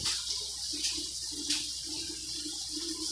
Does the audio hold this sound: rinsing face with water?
yes